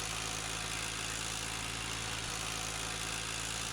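Tractor engine in Farming Simulator 19, hauling a heavy forestry load on a Somerset farm map: a steady, loud mechanical drone with a low hum that holds evenly throughout, with no talk.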